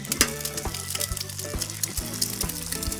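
Eggs fry on a Blackstone griddle in butter and oil, giving a steady close sizzle with a few sharp clicks and scrapes.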